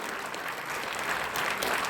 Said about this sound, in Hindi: तो इसके लिए भी एक बार जोरदार ताली होनी चाहिए